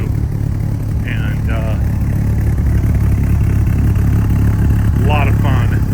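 A 1997 Dodge Viper GTS engine runs steadily after a cold start, a loud, continuous low rumble throughout, with brief speech over it.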